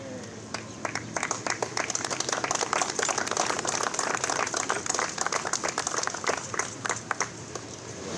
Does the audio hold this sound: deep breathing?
no